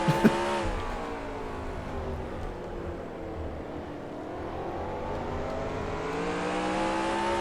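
Race car engines in NASCAR Racing 2003 Season on a speedway, a steady high engine drone that sweeps down and back up as cars pass close by, alone without talk.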